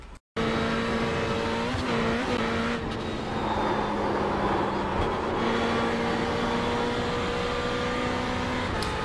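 A race car in iRacing accelerates hard along the Nürburgring Nordschleife, its engine note rising steadily through the gears in a loud, continuous whine with brief shift dips, no talking over it.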